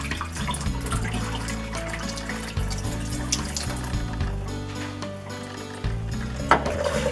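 Sprouting seeds being rinsed with running water in a mason jar, a continuous close tap stream with shifting splashes and a few abrupt changes in flow, ending with a small clink.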